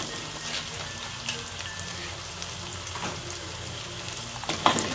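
Boiled chicken feet go into a hot pan for street-vendor style Mie Tek-Tek, giving a steady close sizzle and crackle of frying with a few clattering stirs and a sharp clink near the end.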